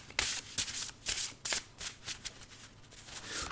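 Thin paper playing cards being shuffled by hand, a run of quick riffling bursts and soft flicks over a few seconds, close and fairly quiet with no talking.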